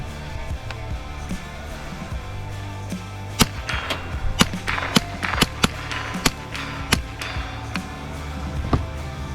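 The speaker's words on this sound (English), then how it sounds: "It is a 22. And we're gonna take some shots with it real quick." A .22 rifle fired at a target, giving a series of about ten sharp, close cracks at irregular intervals after a quiet start, each shot short and snappy.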